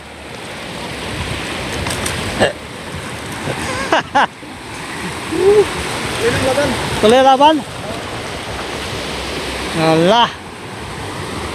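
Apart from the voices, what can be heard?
strong sea waves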